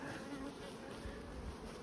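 Bees on a bee farm hum in a dense, continuous buzz, close and steady throughout with no talking.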